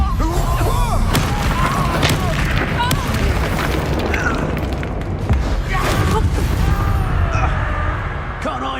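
Spell blasts from the Hogwarts Legacy video game fire in rapid succession, booming and bursting over dense, loud combat noise that runs throughout.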